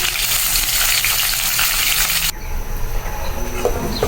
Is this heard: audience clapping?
no